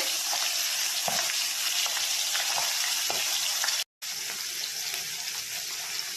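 Small puti fish fry in mustard oil in a wok, a dense, bright sizzle that runs nearly unbroken, with a few pops and spatters and one brief drop to silence partway through.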